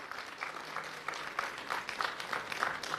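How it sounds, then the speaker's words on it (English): An audience at a college business conclave applauds a guest speaker, with steady, moderately loud clapping from a hall full of people, alone and without talk. "A huge round of applause."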